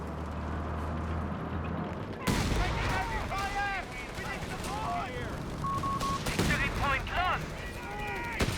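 A rifle grenade and gunfire in a Company of Heroes 3 2v2 match: a sudden blast followed by scattered distant rifle and machine-gun shots under a battlefield din, with a commentator talking over it.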